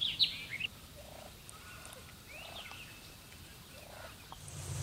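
A wild turkey gobbles once, a short rattling burst at the start, then distant bird calls and faint outdoor ambience fill the rest, on public hunting land.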